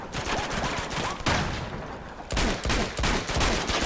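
Gunfire in the video game Uncharted 2, with dense bursts of rapid shots in quick succession broken by brief lulls, loud and close throughout.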